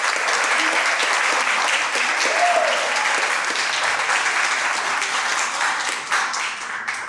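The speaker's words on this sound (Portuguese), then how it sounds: "Uma salva de palmas para vocês, por favor." An audience at a round-table discussion on Black writing and anti-racist education gives visiting school groups a loud, dense, sustained round of applause from many hands, with a faint voice briefly rising above it.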